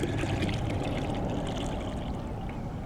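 Water and fine sediment pour steadily over the lip of a gold pan during hand panning for micro fine gold, a continuous close rushing splash with no breaks.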